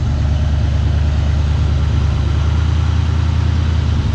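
A 1987 Ford Mustang GT V8 idles steadily nearby, a loud, constant low rumble with an even throb and no change in speed, no talking.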